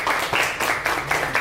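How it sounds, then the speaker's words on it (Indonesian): Applause from a small group at an art exhibition event, steady clapping with a few brief bursts, fairly close and moderately loud. "mungkin boleh tepuk tangan"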